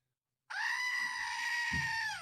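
A goat-scream sound effect starts abruptly after brief silence: one loud, sustained, harsh bleating scream that holds to the end, with a faint low thump beneath it.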